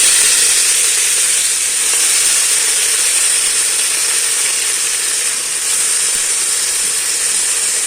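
Mutton pieces for a brinjal mutton semi gravy hit a hot pan, giving a loud, steady, broad sizzle that holds evenly for several seconds with no voices.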